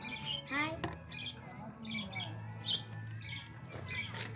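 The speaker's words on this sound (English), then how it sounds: "Lovebird." Pink lovebird parrots give a few sharp, high squawks and chirps, close by, with short bursts scattered over a low steady background hum.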